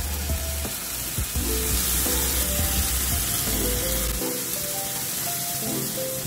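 Eggplant fries in hot oil in the pan just used for corned beef, making a loud, continuous hiss with occasional stirring and scraping and a faint tonal background.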